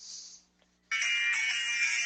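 A phone ringtone sounds loud and close, a short tonal burst, a brief pause, then a longer sustained ring that continues steadily to the end.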